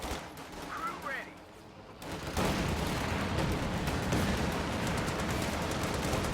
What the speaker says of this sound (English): Contact! MG42!